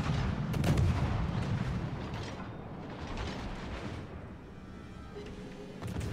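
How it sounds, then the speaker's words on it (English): Naval guns firing in World of Warships: Legends, a dense roar of booming shots and rumbling blasts rolling continuously over several seconds, loud and close with no speech. "Probably should just be continuously shooting my guns."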